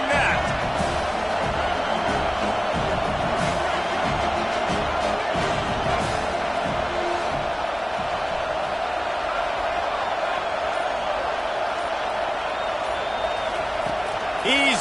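A stadium crowd in a football video game roars in a dense, steady wash of cheering that carries through the whole stretch, with faint thuds and whoops mixed in.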